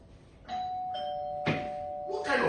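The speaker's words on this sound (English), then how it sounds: "So who is pressing the bell?" A doorbell at a hotel room door rings with a steady electronic tone, followed by a second chime burst, close and clear, with a voice briefly speaking over it.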